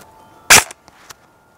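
A Double Eagle 906A Honey Badger airsoft gun fires 0.2 gram BBs: one sharp, loud close snap followed by a couple of faint clicks in an otherwise quiet room.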